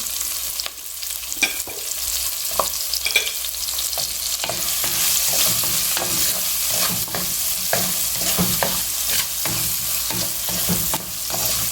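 Onion and green chili sautéing in a pan for a Tamil pepper garlic curry, a steady loud sizzle close by with repeated stirring scrapes and no talk.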